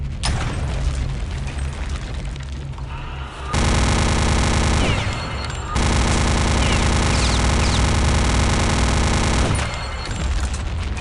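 Gunfire in the video game Return to Castle Wolfenstein: loud, dense bursts of rapid automatic fire with heavy booms, broken by a brief lull before a second sustained volley.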